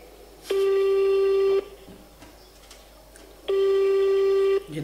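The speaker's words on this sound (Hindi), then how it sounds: "ये देख सकते हैं आप, हसनैन को कॉल जा रही है।" A mobile phone call rings out on the handset with two long, steady electronic ring tones. Each lasts about a second, separated by a pause of roughly two seconds, and they sound loud and clear over a low background hum.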